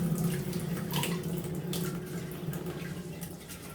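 Rice being rinsed in a pot of water gives a steady, close swishing and sloshing with small splashes, continuous and fairly soft, with no voices.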